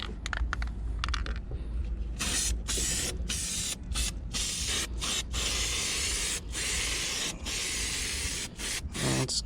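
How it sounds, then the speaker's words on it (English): Spray adhesive hisses from an aerosol can onto bag liners for a 2019 Harley Road Glide with extended bags, a run of short close bursts separated by brief pauses, with faint rubbing underneath. "So what we're going to do is give it a little spray."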